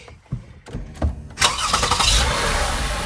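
A Lexus RX 350 starts up: a few quiet clicks and a brief crank, then the engine catches with a sharp burst and settles into a steady, close idle.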